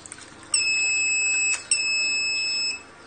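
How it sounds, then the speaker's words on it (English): The buzzer of a microcontroller soil moisture irrigation system sounds two steady high-pitched tones, each about a second long, separated by a brief gap, with faint background noise. "then automatic water pump is on and buzzer is triggered to indicate."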